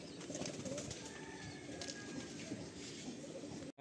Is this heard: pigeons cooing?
yes